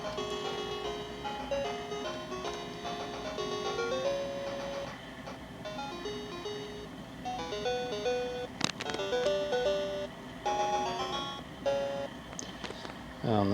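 A Sega Game Gear with a faulty speaker plays a tinny, buzzy chiptune melody of stepping beeps and tones, with a sharp click partway through.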